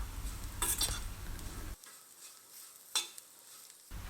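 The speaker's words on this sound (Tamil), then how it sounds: "நம்ம அரைச்ச பொட்டுக்கடலை பொடியை இதில் மேலே தூவி விட்டுட்டு நல்லா கலந்து விட்டணும்." A spoon stirs bitter gourd fry with roasted gram powder in a pan, scraping close against the pan bottom over a soft sizzle. A sharp clink comes partway through, with brief quiet gaps between stirs.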